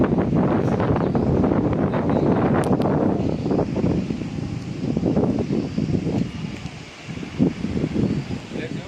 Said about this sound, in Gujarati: ઘનઘોર પવન છે હાવ.